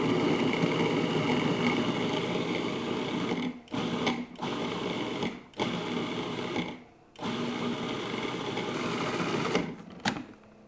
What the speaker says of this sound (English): I'm going to add my meat to it, and we're going to puree it until it's really nice and pretty much pureed.